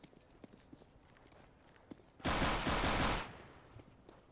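Counter-Strike AK-47 fire rattles out in one loud, dense burst of about a second, with faint scattered clicks and taps before it.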